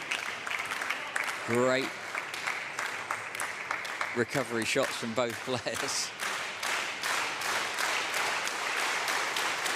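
A crowd applauds at a table tennis Champions League Final Four match, steady clapping running throughout beneath a commentator's voice.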